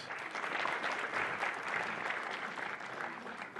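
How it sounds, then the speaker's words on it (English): A room of attendees at a news conference about the Super Bowl halftime show applauds in a continuous, fairly soft wash of clapping that holds steady throughout. "round of applause for Fred, please"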